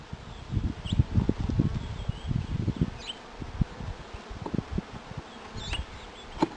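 Honey bees buzz softly around a hive, a low uneven hum with scattered louder passes and rustling, a few faint chirps in the background.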